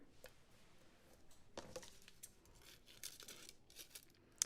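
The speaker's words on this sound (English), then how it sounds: "create little fringes by cutting your foam tape while it's still on the roll." Scissors snipping foam tape still on the roll to make fringes, a run of quiet, soft crunchy cuts in an irregular rhythm, close but faint, with no talking.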